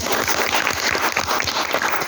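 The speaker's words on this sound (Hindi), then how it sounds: "नए पुराने मेहमान के लिए एक बार जबरदस्ती से स्वागत ताली" Guests break into welcoming applause in a hall treated like a temple, a loud, dense clatter of many hands that runs at an even level throughout.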